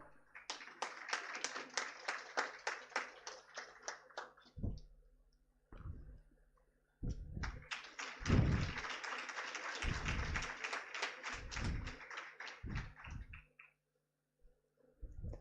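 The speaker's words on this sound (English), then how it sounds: "So huge round of applause." Conference audience in an auditorium clapping in short bursts: a run of sparse, close, crisp claps, a pause, then a fuller round of applause that thins out into a few scattered claps.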